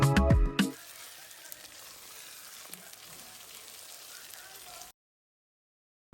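Cooked-down onions sizzle softly in a pot after half a cup of oil goes in for Ethiopian doro wat, a faint even crackle following a brief louder clatter, then cutting off.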